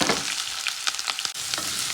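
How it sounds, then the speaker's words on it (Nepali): Onions and fenugreek fry in hot oil, a loud, close, continuous hiss and sizzle with a few soft stirring knocks, and no voices. "प्याज चाहिँ रातो हुन्जरी मजाले भुट्नुहोस्।"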